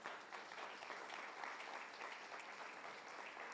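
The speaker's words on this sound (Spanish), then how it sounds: "¿Le podemos dar un aplauso al Señor Jesús?" Faint, steady applause from a church congregation, a continuous wash of clapping that sounds distant and keeps an even level throughout.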